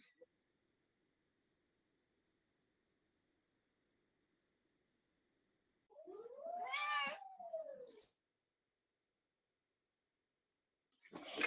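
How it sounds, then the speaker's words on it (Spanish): A house cat lets out one loud, drawn-out meow in a quiet room, followed by the onset of another cry at the very end. "mi gata está molestando"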